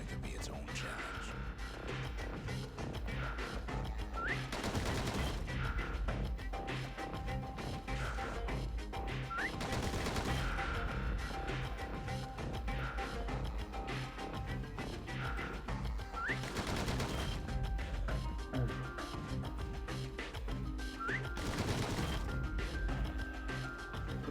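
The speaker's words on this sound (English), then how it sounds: "Those pistols could spit out rounds just as quick as you could pull the trigger." Rapid pistol fire in the video game Bastion, a dense run of sharp shots and impacts repeating steadily over a constant loud mix of game sound, with a voice talking over it.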